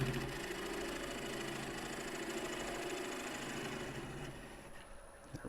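A wood lathe hollows a myrtle bowl, giving a loud continuous hum with a scraping, rhythmic cutting texture that eases slightly near the end, with no talking.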